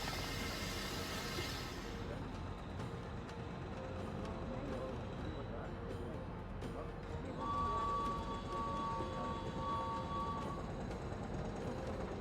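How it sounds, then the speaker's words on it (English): Steady low rumble and clatter of a moving train carriage in the Murder on the Orient Express PC game, a constant rolling ambience with faint rhythmic clicks and a soft hiss. "Now we can sit back and enjoy a relaxing train ride."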